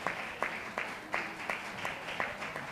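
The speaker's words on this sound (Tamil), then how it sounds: "எல்லாம் கைதட்டுங்க." An audience at a church program claps together in a steady rhythmic beat, each sharp clap evenly spaced, with a faint murmur of voices underneath.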